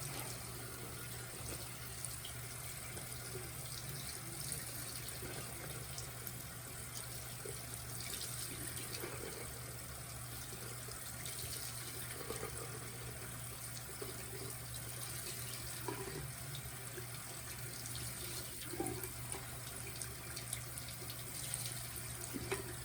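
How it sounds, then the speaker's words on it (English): Hot water runs steadily from a sink tap into a basin while makeup brushes and sponges are being washed, a continuous close hiss and splash with no talking. "Water's getting real hot."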